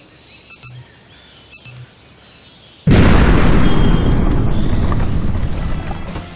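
Building demolition in the video game Blaster Simulator: two brief electronic alarm chirps with short pauses between them, then a sudden loud explosive blast that rolls on as a long rumbling roar of collapse.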